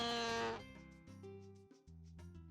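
An irritated cow in Harvest Moon: Another Wonderful Life gives a short, bleating game-style moo at the start. A simple synthesized farm melody plays on behind and after it.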